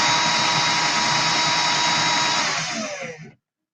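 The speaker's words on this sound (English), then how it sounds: "always do a test run first with your drill" A power drill spins up for a test run while building a micro Clapton coil, a loud steady close whine that holds for about three seconds before winding down and stopping abruptly.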